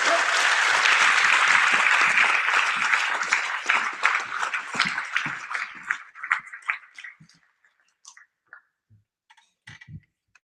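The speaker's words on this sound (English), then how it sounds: "Give these ladies and gentlemen applause." Ceremony audience at a high school NJROTC change of command applauds, a full roar of clapping that gradually thins into scattered individual claps and dies out to near silence.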